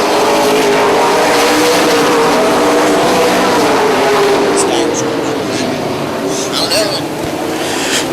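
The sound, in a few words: super late model race cars racing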